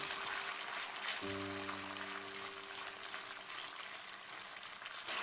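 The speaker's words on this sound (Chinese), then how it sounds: "倒入切好的豆腐丁，先把豆腐丁给它铺平，让它们都接触到食用油，然后用小火慢慢煎" Tofu cubes frying slowly in cooking oil over low heat, a soft continuous crackling sizzle that stays faint and even, with a low steady hum entering partway through; no voices.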